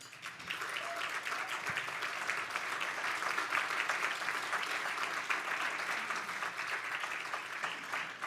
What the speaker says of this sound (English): can you guys stand so we can all give you a round of applause?